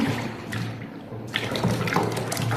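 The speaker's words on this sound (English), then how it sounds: "we're supposed to pour in our sulfonic acid" Sulfonic acid is poured into a liquid soap base, a soft, steady trickle of liquid into liquid with faint splashing, close and fairly quiet, no talking.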